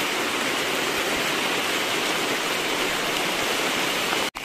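Heavy rainwater rushes and floods through a hillside tourist spot in Kanyam, a loud, dense, unbroken roar of torrential flow close by.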